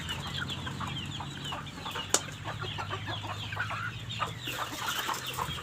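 Country chickens cluck and chatter in a group while being fed grain in the evening, a busy overlapping stream of close clucks with a low steady hum beneath.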